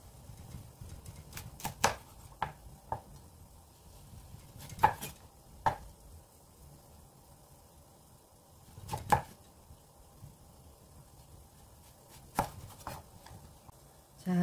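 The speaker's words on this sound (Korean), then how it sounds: "당근을 6cm 길이대로 먼저 썰어 주시고 나서 자, 도라지와 똑같은 모습으로 썰어 주실 건데요" A knife chops carrots into thin strips on a board, a series of sharp, close taps in irregular bursts with pauses between, alone in a quiet kitchen.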